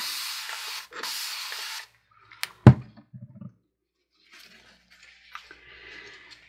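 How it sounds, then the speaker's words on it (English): Rubbing alcohol spritzed from a spray bottle onto resin coasters to clean them: two close hissing bursts, then a few sharp knocks and soft handling noises, with a faint rustle near the end. "And I'm going to spray these down."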